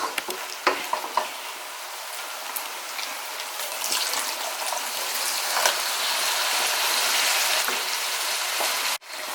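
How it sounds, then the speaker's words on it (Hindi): Water is poured into well-fried Bihari-style keema (minced meat) in a hot pan, setting off a loud, continuous sizzle and crackle with a few stirring scrapes, and no voices. "जी तो ये वाले 2 गिलास पानी इसमें मैंने डाला है।"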